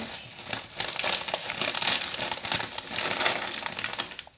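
A plastic popcorn packet crinkles and crackles steadily as it is torn open, a dense close-up rustle lasting several seconds with no talk over it.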